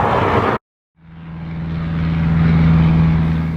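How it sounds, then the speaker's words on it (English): Roadside traffic at the Great Texas Airshow at Joint Base San Antonio: a loud steady rumble of passing cars with a low engine hum, briefly cut to silence before swelling back in and staying strong, mixed with wind buffeting. "that wind and car noise is pretty rough"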